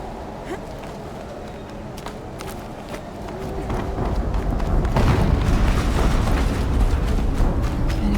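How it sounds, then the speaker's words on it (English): A video game explosion in Horizon Zero Dawn builds into a loud, sustained rumbling roar with scattered crackles, swelling midway and holding heavy and close to the end. "An explosion."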